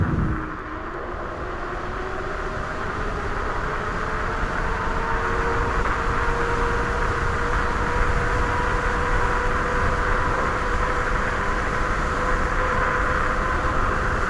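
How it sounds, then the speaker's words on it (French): An ANGWATT T electric scooter cruises at about 65 km/h. Its tires produce a steady, loud rolling roar, with a constant whine and rushing wind, and nobody speaks. "Et vraiment, le bruit des pneus, c'est quelque chose aussi."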